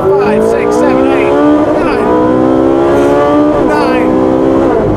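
Ferrari 458 Speciale V8 engine revving hard in second gear, pitch sweeping upward through repeated rising pulls with brief dips between them, loud and close, cabin noise around it.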